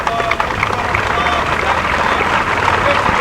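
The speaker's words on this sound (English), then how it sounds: "Crowd appreciates that effort by both players." Applause from a tennis crowd for both players after a hard-fought match at Kalamazoo, a dense, continuous wash of clapping with murmuring voices mixed in.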